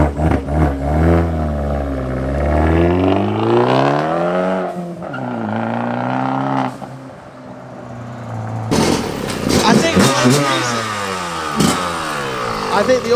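A Fiat 500 Abarth with a modified exhaust revs and accelerates, its engine pitch rising and falling through gears with a loud raspy note, then a sharp, louder burst partway through.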